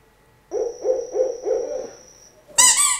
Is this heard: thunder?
no